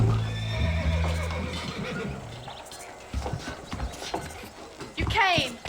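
Horses in the Red Dead Redemption video game whinny and clop along, a neigh opening the scene and a shrill whinny near the end, with hooves and wagon rumble in the middle under a voice.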